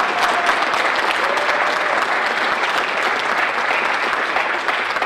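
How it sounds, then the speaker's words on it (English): A high school concert band audience gives sustained, even applause for the students, loud and continuous from start to finish without fading. "So how about another round of applause for these students?"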